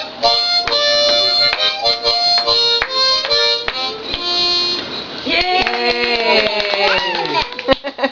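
Hands clap in a quick, uneven series of sharp slaps over a grandpa's close harmonica playing, with a voice briefly heard.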